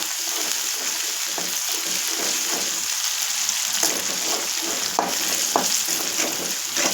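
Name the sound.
ginger garlic paste frying in hot oil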